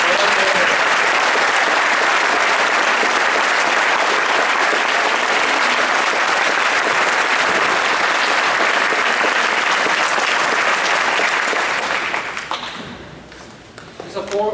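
A crowd at a scholar club event applauds its seniors, sustained loud clapping from many hands filling most of the stretch before fading out, with a voice briefly audible as it dies down.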